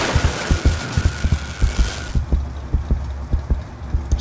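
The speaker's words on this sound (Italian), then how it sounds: "Sto battito di cuore." A steady heartbeat thumps in the Saints Row video game, paired beats repeating evenly about twice a second over a low hum, with a bright hiss that cuts off midway.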